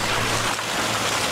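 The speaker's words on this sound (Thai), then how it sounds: "ไม่ใช่เพราะฝนตกจนกลายเป็นน้ำตกหรอกครับแต่เป็นน้ำที่มาจากน้ำแข็งละลายต่างหาก" Steady broadband rush of meltwater from melting ice pouring down in a high Indian mountain village, loud and continuous, with no voices.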